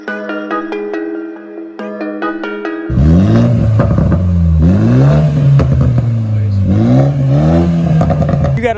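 A 2020 Toyota Supra with a straight-piped muffler delete exhaust revs loudly after a short electronic tone, its engine rising and falling in repeated throttle blips close by.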